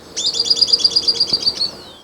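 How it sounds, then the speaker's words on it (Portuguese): A risadinha bird calls nearby with a rapid, evenly spaced run of bright, high chirps lasting about a second and a half, clear against a quiet background. "Risadinha, sim, esse é o nome do passarinho."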